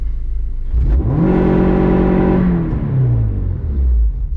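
Inside an Acura RSX with the engine floored against a two-step limiter at 5,500 RPM, a loud steady droning buzz holds for a couple of seconds, then falls away as the revs drop, with no pops.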